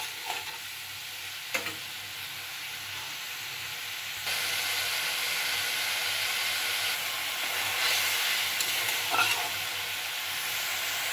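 A spice paste with salt and ground chili paste fries in a pan, a steady hiss of sizzling that grows noticeably louder partway through, with a few soft stirring scrapes near and no speech.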